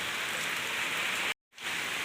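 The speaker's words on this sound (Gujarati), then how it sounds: "આમ જો તમને બતાવો કેવો વરસાદ છે." Heavy rain falling over a village, a dense, even hiss of downpour that continues steadily, broken by a brief moment of silence before resuming.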